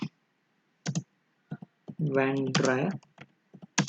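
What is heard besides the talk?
typing on a computer keyboard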